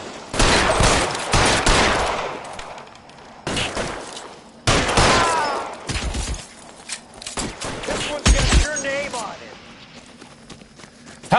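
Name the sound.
gunfire from the video game L.A. Noire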